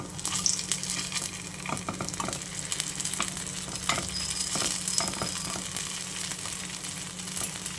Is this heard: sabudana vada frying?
yes